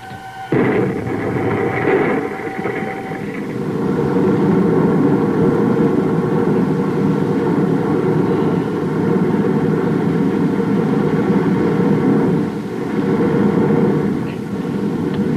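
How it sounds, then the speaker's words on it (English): Rocket firing in a space-patrol scene: a sudden loud rushing roar kicks in after a brief tone and continues steadily for the rest of the stretch, fluctuating slightly but never dropping away. "Stand by to fire rocket."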